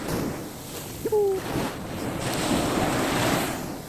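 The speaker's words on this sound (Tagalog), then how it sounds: "Ang lakas pa rin ng alon" Strong surf at Aurora beach roars in a continuous loud wash, heard from a high spot with heavy wind buffeting the microphone and a brief faint tone partway through.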